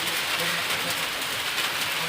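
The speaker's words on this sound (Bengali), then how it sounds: "সরস্বতী পুজোর দিন বৃষ্টি শুরু হয়ে গেছে" Rain beginning to fall outdoors on the day of Saraswati Puja, a dense steady hiss of rain on surfaces, close and fairly loud throughout, with no clear talk.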